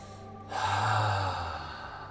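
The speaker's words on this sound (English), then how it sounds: "Take a big deep breath in. Let a ha sound out." A single deep exhale released with an open, voiced ha sound during a guided breathing exercise, close and soft, a quiet breath followed by a swelling sigh that fades out.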